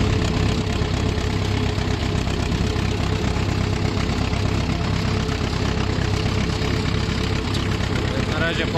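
An Ursus C 360 tractor engine running steadily out in a field, a loud, close, continuous diesel chug with an even knocking rhythm and no letup.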